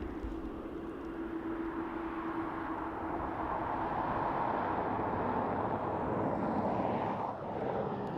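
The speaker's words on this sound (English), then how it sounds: "Beautiful 777 of Emirates." An Emirates Boeing 777 jet airliner roars past outdoors at an airport as a broad, sustained engine rumble that swells in the middle and slowly fades, with wind buffeting the microphone.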